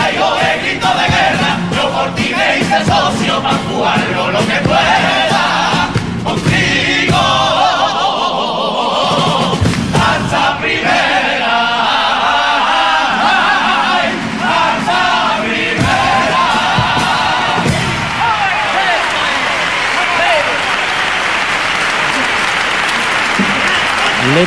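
Theatre audience at the Gran Teatro Falla during the Cádiz Carnival 2003 semifinals applauding and cheering a comparsa's pasodoble, loud sustained clapping with shouts and whoops, a dense close roar throughout.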